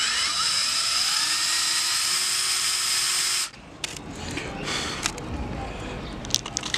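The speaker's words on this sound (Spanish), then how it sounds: "Vamos a perforar los tornillos." A PS1 console has its screws drilled out: a high, steady electric drill whine runs for several seconds, then stops abruptly and gives way to scraping, clattering handling noises with a few sharp clicks.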